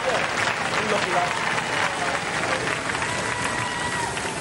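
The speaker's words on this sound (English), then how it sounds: "Give them a round of applause, ladies and gentlemen." A television studio audience at Robot Wars keeps up a dense, sustained round of applause, loud and continuous throughout, with no words spoken over it.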